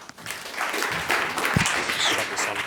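Audience at a startup community event at Google's Startup Hub applauding an incoming speaker; continuous, fairly loud crowd clapping that swells and holds, with faint voices underneath.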